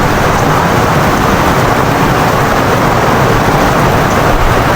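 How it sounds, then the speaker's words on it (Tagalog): Steady, dense wash of heavy rain, loud and constant throughout with no pauses or voices. "Grabe, lakas ng ulan"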